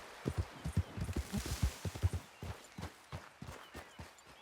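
Horse hooves clip-clopping at a walk in Red Dead Redemption 2, a steady run of close, moderately loud hoofbeats with no talk over them.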